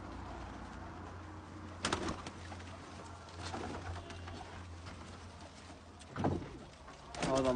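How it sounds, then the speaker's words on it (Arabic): Captive pigeons or doves coo in a few separate soft calls at close range over a low, constant background hum. "طبعا الطيور انا 24 ساعة جوعانة مجوعة"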